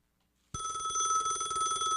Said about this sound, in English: Oh, it looks like we have a phone call.